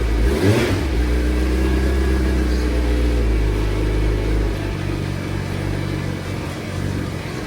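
A Suzuki Hayabusa motorcycle engine in a garage, first started after five years of storage, catches with a sharp burst and settles into a loud, steady, rumbling idle with a slight rise at the start, close by and alone.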